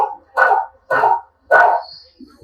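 A dog barks three times in a steady rhythm, answering arithmetic problems with its count; each bark is loud and close, separated by short pauses, with no one talking over it.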